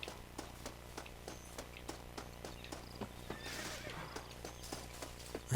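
Steady rhythmic clip-clop of horse hooves at a gallop in the video game Red Dead Redemption, with a brief whinny partway through over a low ambient background.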